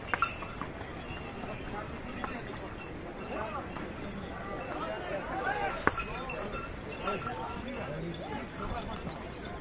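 Horses walk along the mountain path to Yamunotri, their hooves clip-clopping steadily and close by amid constant crowd chatter and general bustle.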